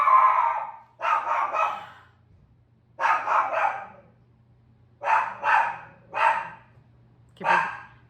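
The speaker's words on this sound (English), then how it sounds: "The dogs are gonna bark again." Dogs bark in bursts of two or three sharp woofs separated by short pauses, loud and close, over a low steady hum with no speech.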